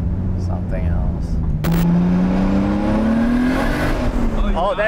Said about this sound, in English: That's what we've been looking for! Wheel spin!